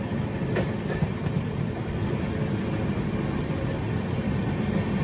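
A train rumbles past on the adjacent track near Vijayawada, a steady, loud rolling roar with faint clatter, heard continuously from inside a moving passenger express with no talk.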